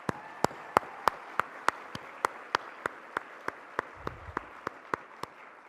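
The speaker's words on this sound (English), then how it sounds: "give them another round of applause" Applause for star performers at a celebration sounds as a sparse string of single sharp claps in an even rhythm, fairly quiet over a soft room hush.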